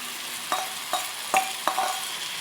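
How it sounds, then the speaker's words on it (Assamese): Onions frying in a pan with sharp stirring scrapes at irregular intervals over a steady sizzle, as shredded cabbage goes in for a homemade egg roll; close and fairly quiet, no talking. "এয়া মোৰ পিঁয়াজ ভজা হৈ গ'ল। ইয়াত মই বন্ধাকবি দিছোঁ।"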